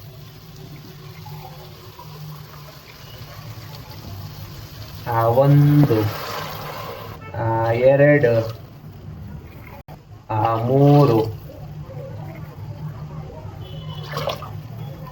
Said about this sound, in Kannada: ಇವಾಗ 3 ಲೋಟ ನೀರು ಹಾಕೋಣ